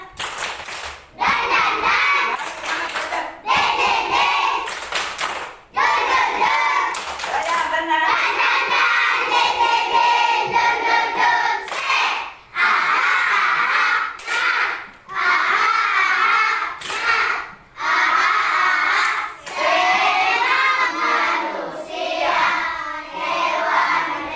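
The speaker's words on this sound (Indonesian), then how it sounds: "Tepuk semangat." A school class performs a rhythmic group clapping chant, with bursts of many hands clapping in patterned beats, children's voices chanting along, and short pauses between phrases, loud and close.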